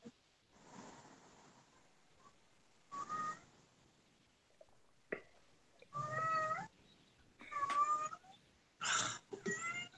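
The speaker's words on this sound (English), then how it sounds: "Yeah, that's my cat." A female cat in heat meows and yowls in a series of long, rising cries, several separate calls spread across a quiet room, fairly close and clear.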